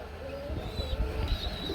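Pigeons coo at a pigeon seller's, soft low burbling calls repeating close by over a busy background hum, with no talk.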